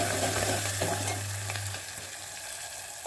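Garlic, cumin and curry leaves sizzle in hot oil for a tempering, with steady loud crackling and hissing close by, a faint low hum underneath, and no talking.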